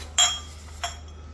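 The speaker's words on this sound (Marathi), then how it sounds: "प्लेन काचेचे ग्लास आहेत" Two plain glass tumblers clink together twice, a bright ringing tap followed by a softer second one, close and quiet against a low hum.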